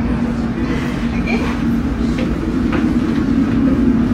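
A London Underground train heading toward Latimer Road rumbles steadily from inside the carriage, a continuous low drone with faint rattles, while people talk over it.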